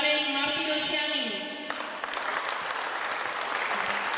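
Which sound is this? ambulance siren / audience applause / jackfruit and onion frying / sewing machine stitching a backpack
audience applause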